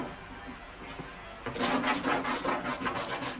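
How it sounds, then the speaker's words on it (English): Beeswax rubbed by hand onto a walnut backing piece in a cabinetmaker's workshop: after a quiet start, a run of close, rhythmic dry rubbing strokes scuffs steadily across the wood. "rubs beeswax onto the swarf or backing piece and smooths it with the hot iron"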